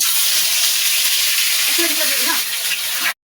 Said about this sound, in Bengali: চিকেন লেগ পিস বিরিয়ানির জন্য তেলে একটা একটা করে ভেজে নেবো।